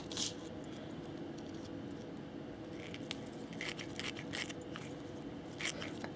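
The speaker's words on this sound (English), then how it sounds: "I'm just going to cut a little bit of the fusible webbing just to make it fit a little bit better" Scissors snipping through fusible webbing for sewing, a quick run of sharp close cuts at the start, then scattered short snips over a steady background hiss.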